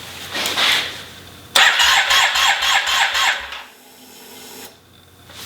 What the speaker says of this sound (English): Let's put it on the bike and then we'll do like just a quick start up and see